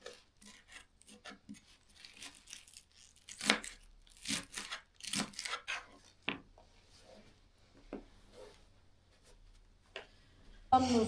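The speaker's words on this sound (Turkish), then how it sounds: "ıspanağımı doğrayıp şimdi" Repeated knife strokes chopping spinach on a board, irregular bursts of crisp cuts with brief pauses, close and fairly quiet.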